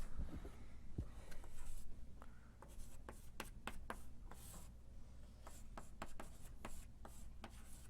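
Chalk scratches and taps across a lecture-hall blackboard during a math lecture, a run of short, sharp strokes and dabs with quiet pauses, close and fairly faint, with no talking.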